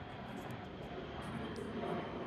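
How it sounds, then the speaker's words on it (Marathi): An airplane passes overhead near a college campus, a faint, steady broadband engine rumble and roar holding evenly throughout, distant and alone without talk. "विमान जातोय ते दाखवायला"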